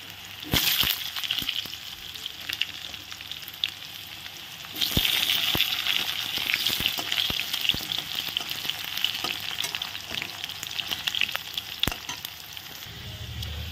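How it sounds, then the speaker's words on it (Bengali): Potatoes frying in hot oil over tempered spices give a steady, close sizzle for the whole stretch, punctuated by sharp clicks and scrapes of stirring, with a louder surge of hissing partway through. "আলুগুলো আমি ভেজে নেব।"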